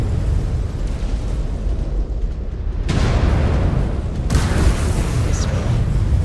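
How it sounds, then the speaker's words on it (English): Heavy, booming explosions from battling mechs in the game Mechwarrior 5: Clans form a continuous loud rumble, swelling sharply twice as fresh blasts hit. "Or the explosions alerted them."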